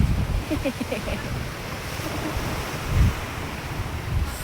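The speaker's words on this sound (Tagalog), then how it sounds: "Sayan po ang dagat." Sea waves wash ashore at a beach resort in Don-e, Negros Oriental, a soft broadband roar mixed with gusty wind rumble on the microphone and one brief louder surge.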